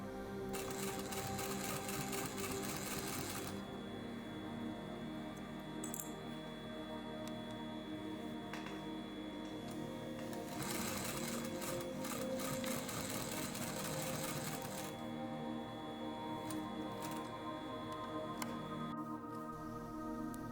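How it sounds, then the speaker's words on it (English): An industrial sewing machine stitches fabric in long continuous runs, a rapid mechanical rattle and whir that starts and stops in bursts with brief pauses between them, close and steady. "On the industrial sewing machine it is easy to sew any fabrics, leather, jeans, tarpaulin,"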